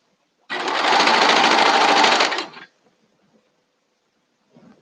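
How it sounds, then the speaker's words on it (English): A sewing machine runs in one steady, fast-stitching burst of about two seconds while sewing cuffs, close and loud, then stops into near silence with a faint shuffle at the end. "I just got done sewing all the cuffs"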